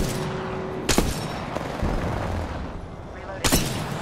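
Gunfire rattles in the Apex Legends arena mode, with sharp close shots punctuating a dense ongoing barrage of weapon noise, two especially loud bursts standing out amid the in-game clamor.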